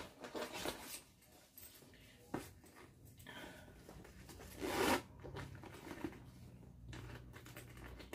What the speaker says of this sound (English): It's a gold zipper.